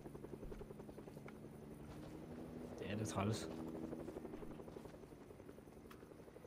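A helicopter in Fortnite thrums steadily with a rhythmic rotor chop throughout, swelling briefly louder near the middle, while a player speaks over it.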